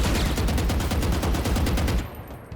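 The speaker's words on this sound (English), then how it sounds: "I'm going to strafe around this corner really quickly, and I'm going to try to fire at a pretend enemy" Rapid automatic gunfire from a weapon in the tactical shooter VALORANT, fired while strafing around a corner: a dense, loud burst of closely spaced shots for about two seconds that stops abruptly, leaving a short tail.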